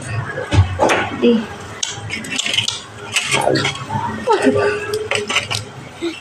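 A spoon scrapes and clanks against a metal pot while onion is mixed in, irregular clinks and scrapes close by, with a voice speaking over parts of it.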